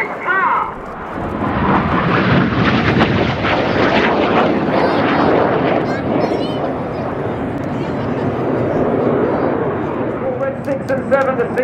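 Loud, sustained roar of a Red Arrows jet passing overhead at the RIAT air display, broadband and steady throughout, with a crowd and commentary voices faintly audible beneath.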